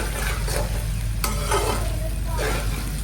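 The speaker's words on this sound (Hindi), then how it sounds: "चलें जी भिंडी को फ्राई करके निकाल लेती हूँ" Okra (bhindi) fries in oil in a pan in a village kitchen, with a steady loud sizzle broken by a few rhythmic stirring scrapes.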